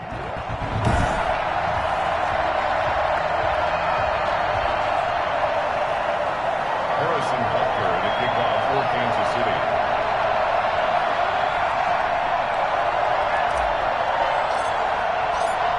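Steady stadium crowd roar from an EA Sports NFL video game matchup between the Denver Broncos and Kansas City Chiefs, a dense continuous wash of noise holding level throughout with a few faint thumps and swells.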